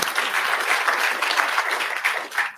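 Audience at a chemistry lectureship event bursting into applause, a close, lively round of clapping with uneven rhythm that thins out toward the end.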